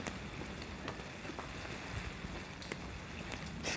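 Steady rain falls over a shopping street in Ofuna, a continuous close hiss of drops on pavement and surfaces with a few sharper taps, no voices.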